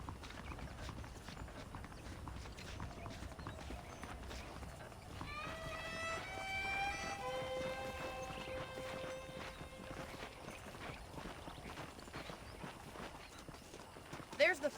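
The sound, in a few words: horses trotting in video game Red Dead Redemption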